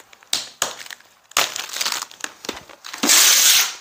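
Packing tape is torn and peeled off a cardboard box holding a collectible figurine, heard as several close, crackly ripping and crinkling bursts separated by short pauses, the longest and loudest at the end.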